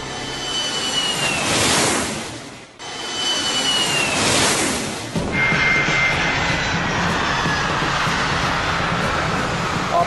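A passenger airliner's engines roar loudly during landing, swelling and fading in two broad waves before settling into a steady, dense engine noise.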